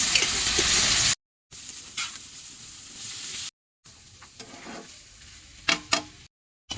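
Chicken with soy sauce sizzling in a hot oiled pan, a loud steady fry hiss with stirring scrapes, cut by brief silent gaps between takes.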